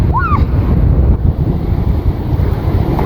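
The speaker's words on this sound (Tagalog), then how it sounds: "Ang hangin." Strong cold wind gusting steadily at the seaside, a loud continuous roar of buffeting wind with surf underneath, filling the whole clip with no voices.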